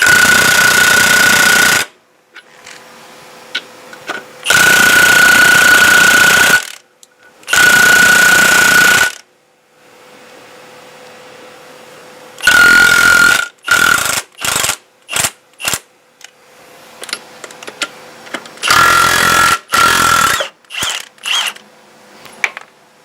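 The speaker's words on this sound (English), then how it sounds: "This rattle gun is amazing." A Milwaukee M12 or M18 cordless impact wrench hammers on car wheel nuts: several long, loud rattling bursts, then a string of short rapid blasts, close up with quiet pauses between.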